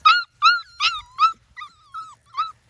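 Schnoodle puppy in a backyard giving a run of high yips and whimpers, several short sharp bursts separated by thin whining tones, close and fairly loud with no other sound.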